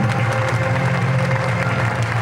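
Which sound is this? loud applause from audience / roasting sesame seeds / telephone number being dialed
loud applause from audience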